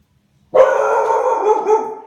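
A single loud, close dog bark stretches into a drawn-out, howl-like cry lasting well over a second, then fades, with silence before it.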